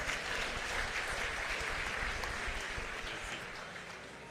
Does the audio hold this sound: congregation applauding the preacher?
yes